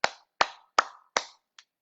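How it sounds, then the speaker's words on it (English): Cupped hand patting the inner wrist and arm in a movement practice, giving four crisp, evenly spaced claps followed by two softer, quicker pats, close and otherwise silent. "Nice, clear clapping sound. You can tell you're moving the energy when it's really clear."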